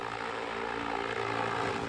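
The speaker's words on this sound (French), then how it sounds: "c'est bien une soucoupe volante qui sillonne chaque jour le ciel en vol test." Homemade 200 kg carbon-fibre flying saucer in Shenzhen, powered by electric motors, flying on a test flight: a steady, loud droning whir with a rich hum of layered tones, constant throughout and close by.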